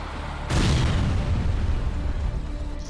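A sudden loud blast from a Hezbollah attack on an IDF surveillance centre, a sharp onset followed by a long rumbling roar that slowly fades.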